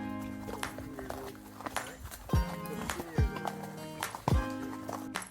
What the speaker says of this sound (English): Once we harnessed the horses, we started our ride.